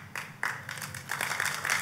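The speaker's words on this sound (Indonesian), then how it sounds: "Jangan tepuk tangan dulu Pak." Audience in a church applauds during a sermon, a burst of clapping that starts abruptly and builds into dense, fairly close applause.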